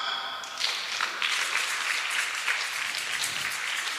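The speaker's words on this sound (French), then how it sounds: "On acclame." A church congregation bursts into sustained applause, dense clapping rising quickly after a brief pause and continuing steadily at full strength throughout.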